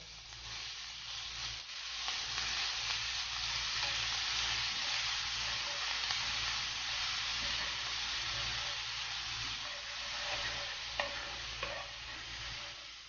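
Garlic chili paste sizzling and frying in hot oil with mustard seeds, a steady crackling hiss with occasional stirring scrapes, continuous throughout.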